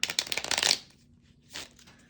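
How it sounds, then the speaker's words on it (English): A tarot card deck is shuffled quickly in a short riffling burst, close and crisp, followed by a brief soft rustle of cards after a pause. "let me just do a little quick shuffle"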